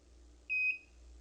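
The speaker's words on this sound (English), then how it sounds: "After a couple beeps," A single steady electronic beep, high and clear, lasting about a third of a second over a faint low hum.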